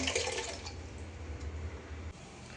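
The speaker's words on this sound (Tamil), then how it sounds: "இப்போ இந்த பாத்திரத்தில் தண்ணியை ஃபுல் பண்ணிக்கலாம்" Water running into a cooking pot to fill it for boiling noodles, a steady splashing gush heard close up that drops slightly in level near the end.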